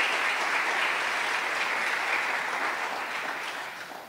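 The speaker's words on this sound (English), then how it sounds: "Can I just get a round of applause for our organizers?" An audience at a CNCF community conference claps for the event organizers, a dense sustained wash of applause that holds steady and then gradually tapers off near the end.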